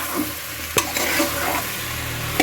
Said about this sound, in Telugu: చికెన్ అనేది దీంట్లో వేసుకుని మనం నూనెలో మంచిగా మగ్గనిచ్చుకోవాలండి